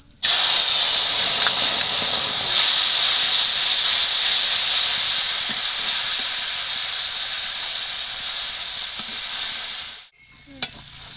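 Spices fry in a pan with a loud, continuous sizzling hiss that runs for about ten seconds, then cuts off sharply, followed by a brief clatter.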